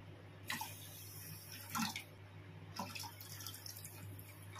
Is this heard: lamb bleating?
no